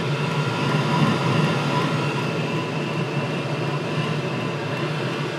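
A diesel heater burning ethanol runs continuously, giving a steady, even roar and rushing hum at close range, without pauses or voices.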